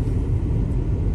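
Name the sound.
car driving on snowy roads, heard from inside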